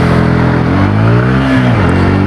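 A 2026 Bajaj Pulsar N160 4V motorcycle's exhaust while accelerating: a loud, close engine drone whose pitch climbs steadily, then dips briefly as the revs shift, with no talk over it.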